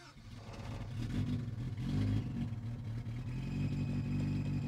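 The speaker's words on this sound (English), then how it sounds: "Yes, it's not knocking. Belt's squealing. It's idling. It runs" A Toyota MR2 engine catches and settles into a steady idle, a low continuous rumble with a slight rise as it revs, close up.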